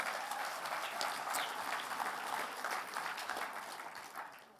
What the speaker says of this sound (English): he deserves an applause for that